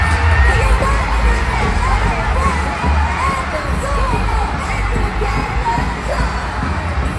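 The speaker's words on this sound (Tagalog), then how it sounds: "At matapos ang masigabong palakpakan at hiyawan ng buong Martin Hall" A packed Martin Hall crowd roars with cheering, shouting and applause after a university cheerdance competition, a dense, loud, continuous wall of voices and clapping throughout.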